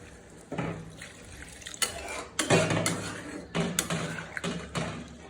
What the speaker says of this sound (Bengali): আমি আলুটা মাংসটা সিদ্ধ হওয়ার জন্য পানি দিয়ে দিচ্ছি